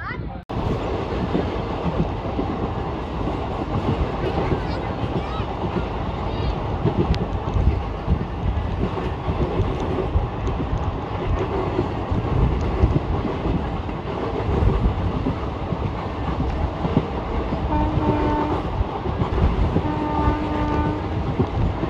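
A passenger train travels between Puranpur and Mailani Junction with a loud, continuous rumble and clatter of wagons plus wind rush, and horn-like tones near the end.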